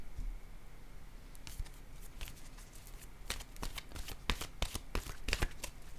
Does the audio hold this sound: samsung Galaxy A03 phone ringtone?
no